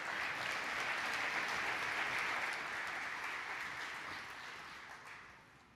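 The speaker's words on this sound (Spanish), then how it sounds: "Un aplauso" A conference audience at a Spanish-language event on globalization and development applauds a speaker, dense wash of many hands clapping that stays full and steady, then gradually fades toward the end.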